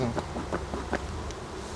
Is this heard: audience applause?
no